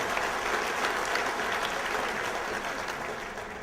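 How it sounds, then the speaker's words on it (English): Steady round of applause from a banquet hall crowd at a police association dinner, dense clapping that holds for a few seconds and then eases slightly. "please give yourselves a round of applause."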